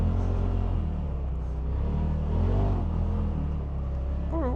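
A 2025 Polaris RZR Pro XP 4 Ultimate side-by-side drives across the sand dunes at Oceano Dunes SVRA, giving off a steady loud engine rumble with slight rises in throttle and a faint voice at the end.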